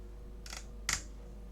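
Plastic clips of a never-opened Sony soundbar casing that has no power crack apart as it is pried open, two short sharp snaps about half a second apart, moderately loud against a quiet room.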